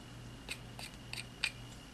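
A knife blade makes a few short, faint scraping cuts into wood while an eye is carved, three or four quick separate strokes against a quiet background.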